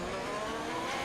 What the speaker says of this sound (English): Oh no, Bio has spun off